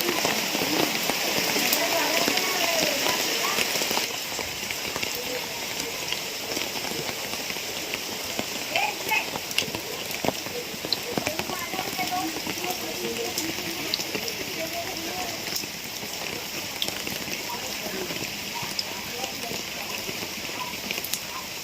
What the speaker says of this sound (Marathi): खूप मस्त मस्त पाऊस आला